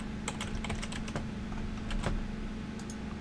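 Typing on a computer keyboard in a quiet room, a quick, irregular patter of close key clicks with short pauses, over a steady low electrical hum; no one speaks.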